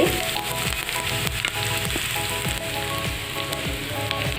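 Onions fry in a pan with spices, giving a continuous loud crackling sizzle with occasional stirring scrapes, close up and with no talk over it.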